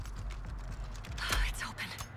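A door unlocks and swings open in the Texas Chainsaw Massacre video game: soft clicks and ratcheting mechanical clatter, then a louder creaking, grinding burst midway that trails off into faint rattles.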